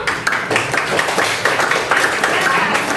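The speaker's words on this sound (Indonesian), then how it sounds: "Ya, tepuk tangan dulu" A classroom of students claps together after a story is read aloud, with brisk rhythmic clapping mixed with chatter and voices throughout.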